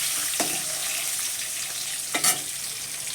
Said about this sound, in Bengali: তরকারি, ডিম ভাজছি।